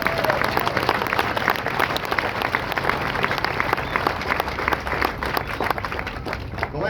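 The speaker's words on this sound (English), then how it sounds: "would you join me in a round of applause for our recruiters and our combat instructors?" A large crowd applauds at a Marine Corps graduation ceremony, with dense, steady clapping that holds loud and even throughout and a faint murmur of voices mixed in.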